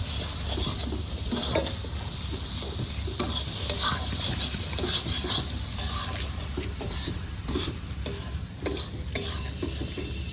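Chopped tomatoes fry in a pan for a chicken dish, with a constant close sizzle and scraping stirring strokes repeating throughout, no voices.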